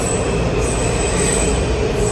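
A Washington DC Metro train running through a station or tunnel, a steady loud roar with high steel-wheel squeal and a hiss, continuous and near throughout, with no talk.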